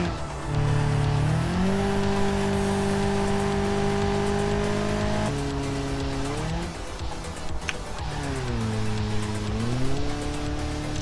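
A minivan laps the Nordschleife in the BeamNG driving game, its engine droning and shifting pitch through automatic gear changes, with tire squeal as it corners hard, loud and close throughout.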